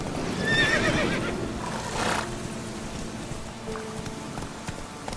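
The horse Roach whinnies loudly in The Witcher 3, with hooves clip-clopping and rain pattering around it, followed by a softer snort.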